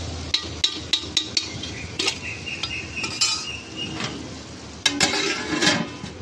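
Metal utensils tap and clink rhythmically against a pot of cooking masoor dal, followed by scraping and a louder clatter as a lid is set on top, with a soft simmer underneath.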